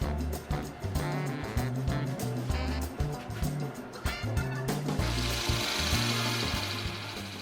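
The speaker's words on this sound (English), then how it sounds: "parting tool here and I'm going to do an undercut" A parting tool cuts an undercut on a lidded box turned from ice cream bean tree wood on a lathe, with a close, steady motor hum under repeated scraping cuts that turn into a brighter, continuous hiss toward the end.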